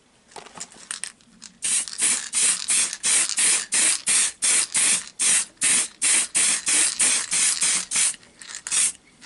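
An aerosol sprays a coat onto a 1:12 steel model narrowboat in short hissing bursts, about fifteen quick pulses in a steady rhythm after a few light sprays, close and loud.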